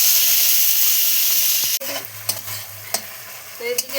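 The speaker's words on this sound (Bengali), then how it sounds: "বেগুন ভাজা হচ্ছে" Eggplant slices frying in a pan beside khichuri, giving a steady loud sizzle that suddenly drops to a quieter crackle with scattered pops and scraping stirs.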